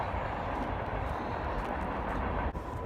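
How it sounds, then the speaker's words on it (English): A train rolling past at night near a truck parking lot, a steady loud broadband rumble and rattle of rail cars that holds constant throughout. "Oh look, a train."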